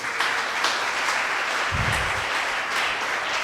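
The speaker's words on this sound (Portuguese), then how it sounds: "Aplaude a Jesus por isso." A church congregation claps continuously in a dense, even round of applause, with a brief low thump near the middle and no break in the clapping.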